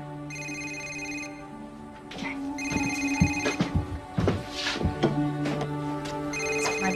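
A telephone rings repeatedly in a steady electronic pattern, loud and nearby, with clattering and movement sounds mixed in between rings.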